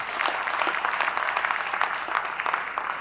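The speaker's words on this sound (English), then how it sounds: "Come on, round of applause." An audience at a conference session on net zero urban development applauds the introduced team members, with brisk, fairly close clapping of moderate loudness that continues steadily for a few seconds.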